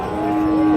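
A Friesian or crossbred bull calf at the Raniganj cattle market gives one loud, close, sustained moo that swells slightly across its length.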